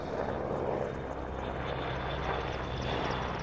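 A Merlin helicopter with three Rolls-Royce Turbomeca RTM322 turboshaft engines gives a steady, moderately distant whine and rotor rumble at an airshow, unbroken throughout.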